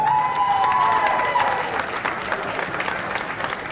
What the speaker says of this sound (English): round of applause. Here we go.